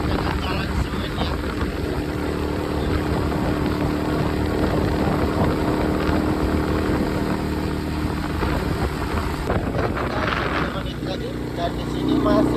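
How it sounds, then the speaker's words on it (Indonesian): Motorcycle engine droning steadily as it climbs a steep cement road toward Kalitalang, a continuous loud hum with wind rush throughout and a brief shift near the end. "Kalau ke sini motornya harus bagus nih, karena mesinnya jangan sampai kita bobok di tengah jalan ya."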